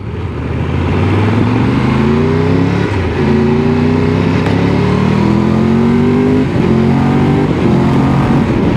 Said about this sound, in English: Gear change is nicer, you get a bit of a blip.